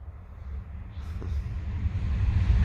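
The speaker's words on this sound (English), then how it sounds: "Sorry about the train noise." A train passing near a quarry lake, a low steady rumble that slowly grows louder and nearer across the clip, with no talk over it.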